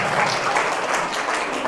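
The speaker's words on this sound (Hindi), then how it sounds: "आर्यन के लिए जोरदार तालियां" Enthusiastic applause from a school audience at a myopia awareness program cheers a student on, a brief, loud, continuous clatter of many hands.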